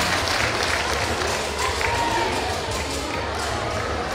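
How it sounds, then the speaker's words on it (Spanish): Audience applause at the award ceremony of a caldo de chivo cooking contest, a steady crowd clapping mixed with background murmur and some talk, fairly loud and continuous across the few seconds. "Claudia, un aplauso para ella."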